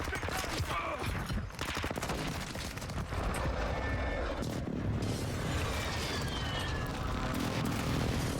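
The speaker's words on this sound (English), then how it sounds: "Hostile airstrike incoming." An airstrike in a shooter game brings a sustained barrage of booming explosions and crackling gunfire, loud and rumbling throughout, with overlapping blasts and no clear pauses.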